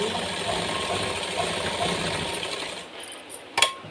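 A sewing machine stitches a blouse, humming steadily for nearly three seconds before it slows and stops with a few clicks and a faint thump at the end.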